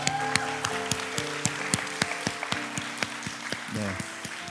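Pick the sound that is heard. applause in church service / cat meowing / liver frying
applause in church service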